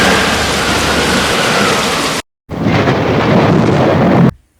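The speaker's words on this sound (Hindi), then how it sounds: "इतनी तेज बारिश भी हो रही थी" Heavy rain pours down in a dense, loud hiss alongside fast-flowing water on a travel route, broken by two brief silent gaps.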